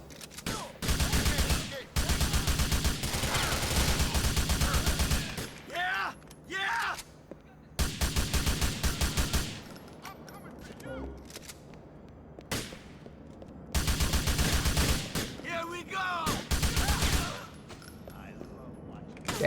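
Bursts of gunfire from Grand Theft Auto IV come in several loud clusters of rapid shots separated by short lulls, with a player talking in between.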